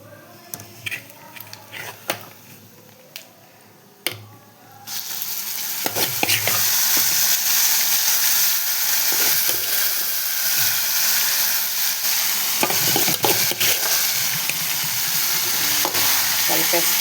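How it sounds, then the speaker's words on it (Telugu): Gongura leaves drop into a curry and fry, with a few quiet stirring clinks first, then a sudden loud, steady sizzle and hiss as they are stirred in up close. "ఇప్పుడు మనము గోంగూర వేసేసుకుందామండి"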